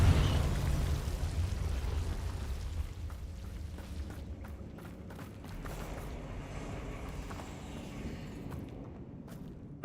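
Explosion from the Confringo blasting spell in a Hogwarts video game: a heavy low boom at the start, then a rumbling, crackling tail with scattered pops and debris that fades over several seconds.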